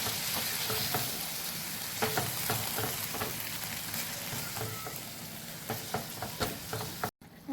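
Tomato, beetroot and chili paste sizzles and spatters in a hot pan while a utensil scrapes and stirs in irregular strokes, close and continuous, with no talking.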